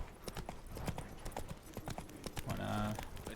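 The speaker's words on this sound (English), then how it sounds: "literalmente he robado un caballo" Horse hooves clip-clop in a steady walking rhythm in The Witcher 3, with someone talking over them throughout and a brief louder game sound near the end.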